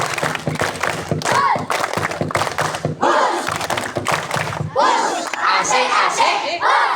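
Children at a Ramadan overnight gathering clap a fast rhythmic spirit clap together, bursts of hand claps and shouted chanting in repeated groups, loud and close, with a leader's voice among them.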